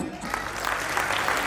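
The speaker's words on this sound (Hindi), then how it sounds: "छोटी तालियां नहीं, बड़ी तालियां बजाइए" A live audience at a festival claps continuously for about a second and a half, a dense, fairly close patter of many hands.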